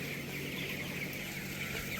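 Broiler chickens cluck in a poultry shed, a dense steady chorus of many birds at moderate volume throughout, with no voices.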